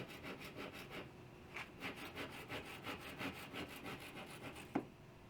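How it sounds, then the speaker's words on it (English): Wood being sanded smooth and flat at the end of a piece for boathouse sliding doors, a steady back-and-forth rasping rhythm, close and fairly quiet, ending with a sharp tap. "that way I can sand it smooth and flat"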